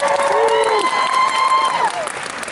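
Convention panel audience at Raleigh Comic Con 2015 erupting in loud cheers, whoops and applause, a dense roar of crowd voices and clapping that stays strong throughout and eases slightly near the end.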